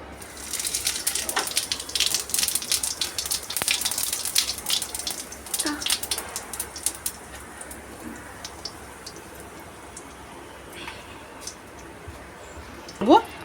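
Whole white cumin seeds hitting hot oil, a crackling, spitting sizzle with dense pops that is strongest early, then thins to scattered crackles and a final sharp burst, with a voice talking over it.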